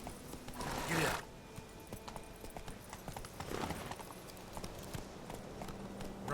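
Hooves of Geralt's horse Roach running in The Witcher 3, a steady clip-clop gallop with a brief whinny-like burst near the start, moderately loud over ambient game sound.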